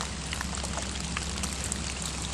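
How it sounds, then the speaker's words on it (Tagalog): Heavy rain pours steadily outdoors at a fishing spot, a dense, constant hiss of drops with no break and no voices over it. "So ngayon guys, lumalakas yung ulan oh."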